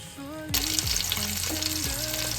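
Green chilies hit hot oil in a pan while cooking for a Bengali fish mash, a sudden loud burst of sizzling and crackling that holds steady, with a few spoon scrapes against the pan.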